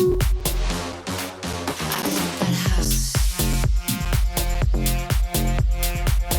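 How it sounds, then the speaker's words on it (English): Punchy drums keep a steady beat while short, bright brass stabs and fills cut in between the hits, loud and upfront. "we added some brass fills"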